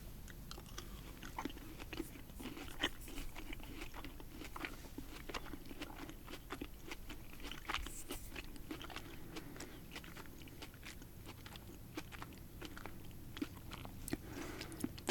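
Heart-shaped sugar-coated berry fruit candy is chewed close to the microphone, soft, repeated wet bites and mastication clicks in an irregular rhythm, quiet and without talking.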